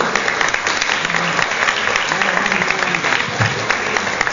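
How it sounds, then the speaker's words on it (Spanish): Applause from an audience at a talk for young professionals in Córdoba, steady dense clapping throughout, close and fairly loud, with a few voices murmuring underneath. "Un aplauso al licenciado, por favor."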